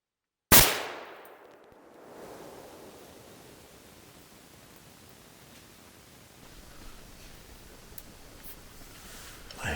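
A single loud rifle shot fired at a black bear during a Wisconsin hunt cracks sharply and then fades into quiet outdoor ambience.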